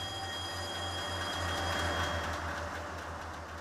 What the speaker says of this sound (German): wie in dieser Straßenbahn die Kräfte von dem Berg wirken